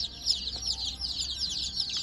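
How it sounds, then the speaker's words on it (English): Chicks peep and cheep continuously in a brooder pen at a farm supply store, a busy chorus of high chirps close by with a few soft clucking notes. "this is another type of chicken in here."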